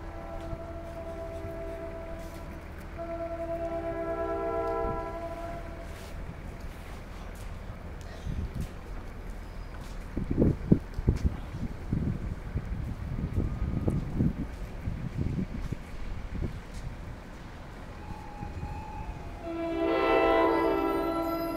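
An eastbound NJ Transit ALP-46A electric locomotive arrives at a station, its multi-tone horn sounding in repeated blasts before a rumbling, clattering pass of railcars under wind noise, with another horn blast at the end.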